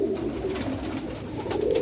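A pigeon coos softly and repeatedly at close range while being handled and shown, with low steady cooing throughout and no talk.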